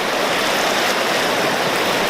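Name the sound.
waterfall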